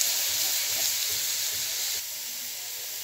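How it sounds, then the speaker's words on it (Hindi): Onion and garlic-ginger paste frying in a pan while being stirred, a steady loud sizzle and hiss that drops slightly in level partway through. "अब इसमें लहसुन अदरक का पेस्ट डाल दें, मिक्स करें ताकि दोनों चीज़ें हमारी प्याज और लहसुन अदरक का पेस्ट एक साथ ब्राउन हो जाए"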